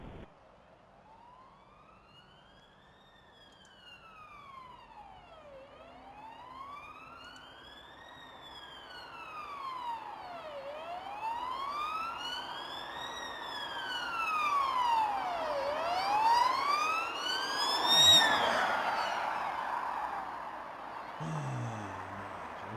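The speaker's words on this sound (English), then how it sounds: "There's an ambulance coming. I had to pull over for it." A wailing ambulance siren sweeps slowly up and down, growing louder as it approaches along the road, then cuts off abruptly as it passes.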